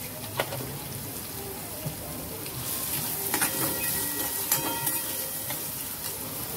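Onion sautéed with a little salt in a pan gives a steady, close sizzle with crackling pops and occasional stirring scrapes, with no talk over it.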